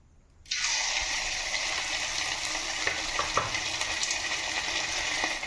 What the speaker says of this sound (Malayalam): ഞാനിതിലേക്ക് മാരിനേറ്റ് ചെയ്ത് വെച്ചിരുന്ന ചിക്കൻ വറുത്തെടുക്കാൻ പോവേണ്ട